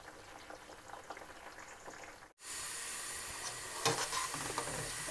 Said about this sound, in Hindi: अब हम इसको हल्की आंच पे 10 से 12 मिनट और पकाएंगे